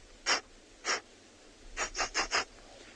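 A person imitates an agitated black rhino with short, breathy huffs: two spaced puffs, then a quick run of four, quiet and close.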